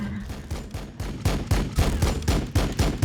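Rapid bursts of bolter gunfire in the game Warhammer 40,000: Battlesector, a steady rhythmic series of loud booming shots repeating about every quarter second, heavy and close, with no talk over them.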